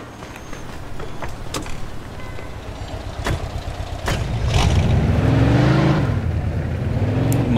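Car engine in the Mafia Definitive Edition video game, running steadily and then rising in a louder revving surge midway, with a few sharp thumps like a door closing; no talk.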